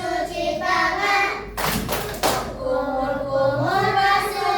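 Children clap hands in the tepuk wudu clapping game in a classroom. A steady sung chant of voices runs throughout, with a short burst of several claps in the middle.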